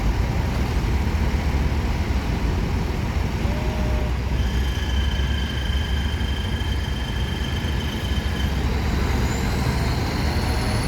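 A Hino RM280 bus with a New Armada Skylander body rumbles loudly and steadily nearby, with its engine drone holding throughout and a faint whining tone rising partway through.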